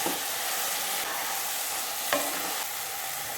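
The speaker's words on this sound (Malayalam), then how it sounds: "അത് ചേർത്ത് നന്നായിട്ടൊന്ന് വഴറ്റണം." Steady sizzling and frying with a few scrapes of stirring in a pan as fried onions are sautéed in masala for chicken biryani, close and continuous, no talking.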